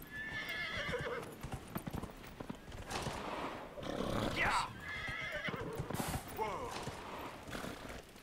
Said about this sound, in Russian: Садись на лошадь.